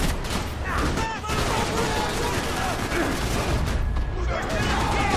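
Dense, continuous gunfire in the Max Payne 3 video game, loud shots and bursts from several directions with crashes and impacts throughout, a voice talking over the firefight.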